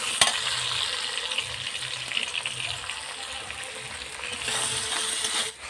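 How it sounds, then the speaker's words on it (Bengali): Steady crackling sizzle of salted potatoes lightly frying in a pan, continuous and close, with occasional faint clinks and no talking. "আলুটাকে আমি হালকা একটু ভেজে নেব"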